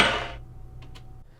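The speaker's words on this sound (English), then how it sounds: "the sound of a grind. When the truck first hits the rail, just that one piece." A skateboard truck strikes a metal rail at the start of a grind, giving one loud, heavy metallic bang that rings out and fades, followed by two faint scraping ticks.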